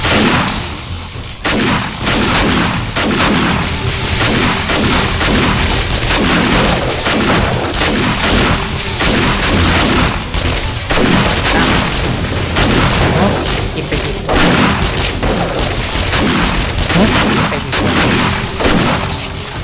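Explosions and gunfire in the survival video game 7 Days to Die: a dense, loud barrage of repeated booms and blasts that continues without a break throughout.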